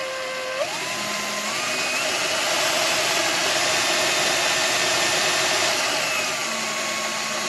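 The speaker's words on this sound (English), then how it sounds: "So now I'm going to start it up again." A V12 engine built from Lego runs steadily with a mechanical whirring hum and whine, loud and continuous after a brief start at the opening, with no talk.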